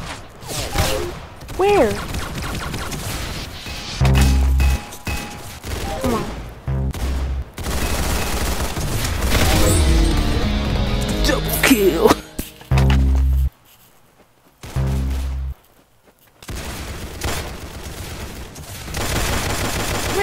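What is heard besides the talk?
gunfire in the Roblox game Arsenal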